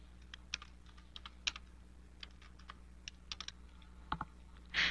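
Typing on a computer keyboard while filling in registration form fields, a quiet, irregular patter of key clicks with brief pauses and a louder clack at the end.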